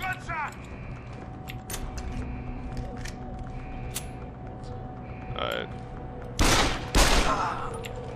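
Combat rifle gunfire in Deus Ex: Human Revolution, scattered shots and short bursts over a low electronic hum, ending in two loud close bursts, with a voice speaking at times.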